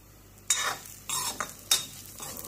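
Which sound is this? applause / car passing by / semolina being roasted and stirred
semolina being roasted and stirred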